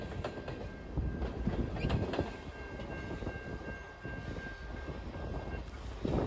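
A test train rolls along the Guelph subdivision with a steady rumble, rhythmic wheel clicks and a sustained high tone, staying fairly loud and close throughout without speech.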